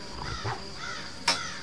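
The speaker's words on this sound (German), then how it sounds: "Die Krähen gerade." Crows cawing in the survival game Die Young, a few hoarse caws spaced apart at mid distance over a steady ambient hum, with a brief sharp noise near the end.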